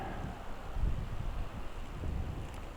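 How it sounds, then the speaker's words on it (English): Wind buffets the microphone beside a pool outdoors in continuous low, rumbling gusts, swelling slightly at moments, with no voices present. "That's a bit windy."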